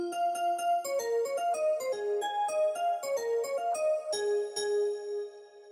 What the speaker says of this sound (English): That was the first patch, which is a bell sound